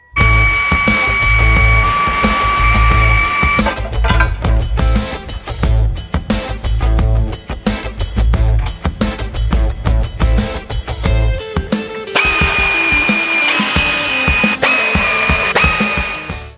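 A power tool cuts a metal transmission crossmember piece during a 1967 Ford F-250 Cummins swap, loud and close, with steady whining runs broken by rapid chattering bursts, then a shrill high tone near the end.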